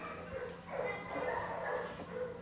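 A shelter dog being shown for adoption whimpers and gives small yips and barks in a soft, uneven series, heard up close and fairly quiet.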